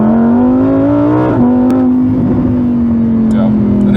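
A 2020 Lamborghini Huracan Evo's Corsa-mode exhaust revs loudly with a deep, rising then steady drone, close by and continuous, with brief pops and crackles near the end.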